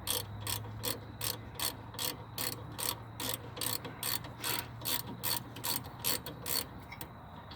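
Ratchet removing 13 mm brake caliper screws on a 2007 Chevy Equinox, an even, rhythmic series of sharp ratcheting clicks close up over a low steady background hum.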